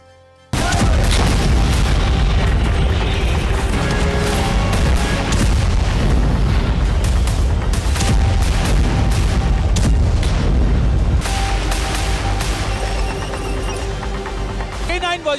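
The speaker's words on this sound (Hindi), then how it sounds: "इसका नाम है K9 वज्र तोप, जिससे बरसते गोले दुश्मनों के कैंप में तबाही मचाते हैं" A K9 Vajra howitzer fires shells in heavy, continuous booming blasts, loud and dense throughout, with a narrating voice layered over the barrage.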